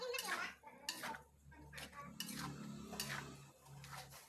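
About 6 kg of fried potatoes for sambal goreng kentang are stirred in a large pot, a metal utensil scraping and clattering against the sides in repeated strokes, fairly quiet and close.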